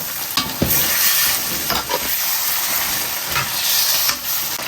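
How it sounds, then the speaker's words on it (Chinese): Fish bones stir-fried in oil with bean paste and hotpot base sizzle steadily and loudly in a wok, with scraping stir strokes and a few sharp clatters across the whole stretch, no voices. "一勺豆瓣酱，一块火锅底料，炒香炒滑，炒出红油。 下入鱼骨"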